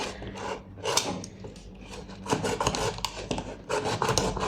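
Cardboard of a tissue box being cut with a cutter or scissors: close, repeated rasping and scraping strokes in an uneven rhythm.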